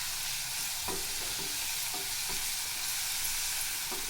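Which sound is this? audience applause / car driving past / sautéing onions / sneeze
sautéing onions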